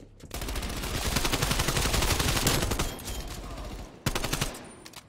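Sustained automatic MP5 fire in a Call of Duty Cold War multiplayer match, loud and close, a rapid continuous burst lasting a few seconds, then a brief pause before another short volley.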